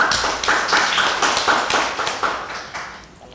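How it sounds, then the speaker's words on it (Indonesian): Audience applause for Pak Berry at a basic PLC workshop: dense, steady clapping from a room of people, loud and close, fading slightly toward the end with no voices over it. "kita kasih aplaus untuk Pak Berry"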